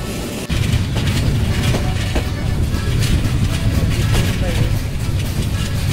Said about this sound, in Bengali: বিকেল 5:26 ট্রেন প্রবেশ করলো আজমপুর রেলওয়ে স্টেশনে